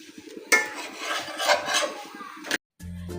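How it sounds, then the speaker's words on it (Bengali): Roti dough being rolled out in a home kitchen for breakfast flatbreads: a steady, close rubbing and soft knocking of a rolling pin against a board for about two seconds, then a short silence. "তো এখানে আমি সকালের জন্য রুটি বানাই রাখতেছি"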